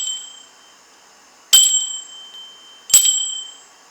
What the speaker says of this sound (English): Let's ring the bells, clear the energies for Gemini.